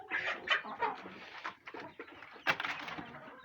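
Pharaoh and Texas quails share a poultry pen with chickens, giving a busy mix of short chirps, clucks and squawks, close by and irregular with brief pauses between.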